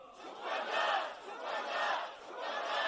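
A large crowd at a Democratic Party protest rally in Korea chants slogans in unison, rising and falling in three rhythmic swells of many voices shouting together outdoors.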